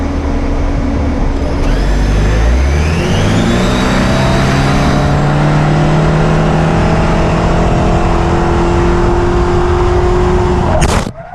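A Toyota Camry on test tyres brakes hard in a stopping-distance run, its engine and road noise winding down steadily as it slows, loud and close, with a sharp knock at the very end.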